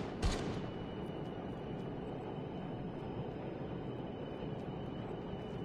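Gunfire in Call of Duty: Mobile battle royale starts with one sharp crack, then gives way to a steady, dense rumble of distant shooting and engine-like drone that carries on without talk.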